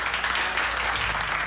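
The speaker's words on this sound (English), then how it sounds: "everybody is seen cheering him" Film scene of a team cheering at RoboCop's unveiling: a dense burst of applause and clapping with crowd cheering, steady and loud throughout.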